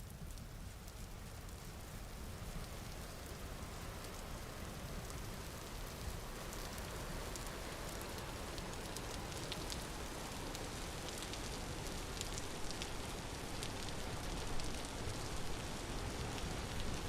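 Steady, dense rain in the Vintage Story survival game, a continuous even hiss of drops falling on the ground around a rural homestead with crops, holding at a constant level throughout with no voices.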